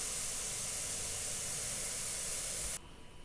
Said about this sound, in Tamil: பாருங்கள் எவ்வளோ நுரை வருதுன்னு.